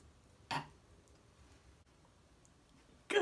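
A person belches twice, a short burp near the start and another at the end, separated by near silence, fairly close and not very loud.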